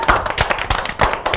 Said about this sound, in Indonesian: tepuk tangan buat Ija.